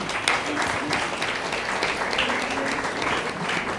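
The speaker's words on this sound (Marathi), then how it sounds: "त्यासाठी जोरदार टाळ्या." An audience at a school for the blind's annual prize distribution breaks into steady, loud applause, many hands clapping continuously throughout.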